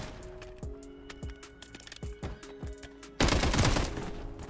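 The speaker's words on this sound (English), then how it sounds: "That shotgun is insane." Shotgun gunfire in Call of Duty: Modern Warfare III, a series of about seven sharp, evenly spaced blasts, followed by a louder burst of sustained, noisy gunfire near the end.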